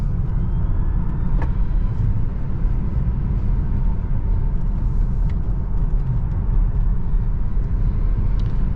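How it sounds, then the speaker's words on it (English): A 2024 Tesla Model 3 cruising on the highway in sport steering mode, with a steady, dense road and tire rumble and wind noise that hold evenly throughout, and no one speaking. "We're going to be taking this Model 3 on the highway, and we'll see how it does."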